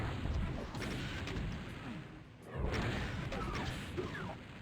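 Rocket blasts and weapon fire in the shooter Doom II crash and boom in steady, overlapping bursts, loud and close, with a short lull midway before the din resumes.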